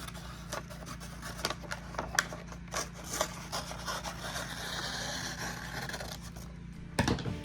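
Vinyl guitar skin being cut off an acoustic guitar, a series of faint, close scissor snips and rustling scrapes spread irregularly, ending in a sharper louder snip.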